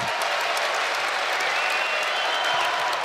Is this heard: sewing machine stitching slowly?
no